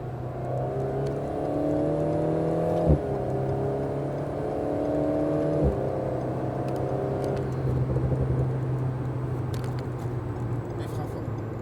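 Alpine A110S sports car accelerating flat out on the Maison Blanche circuit at Le Mans, a loud close engine note with steady rising harmonics, two brief upshift breaks, then continuing hard.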